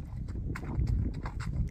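Horse hooves clip-clopping on an obstacle course, a few close, uneven thuds in a short run against quiet outdoor background.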